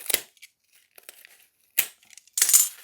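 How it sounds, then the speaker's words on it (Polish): Paper packing tape on a parcel being cut and torn open, a few sharp, dry ripping bursts separated by quiet gaps, close and crisp, with no talking. "taśma papierowa, więc możemy normalnie. No możemy normalnie przeciąć."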